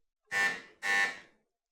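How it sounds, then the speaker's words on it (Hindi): A quiz show buzzer on a televised naat competition is pressed, giving two loud, harsh electronic buzzes in a row with a short gap between them, clean and alone. "बजर प्रेस की है"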